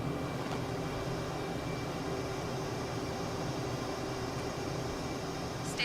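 A jet aircraft in Microsoft Flight Simulator gives off a steady, even engine drone with a broad airy hiss that holds constant throughout, with no voices.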